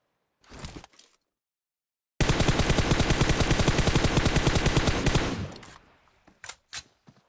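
Rapid automatic gunfire in a video game shooting at players, a dense burst lasting about three seconds that follows a couple of short pops and trails into scattered single shots; loud and close, with no talking.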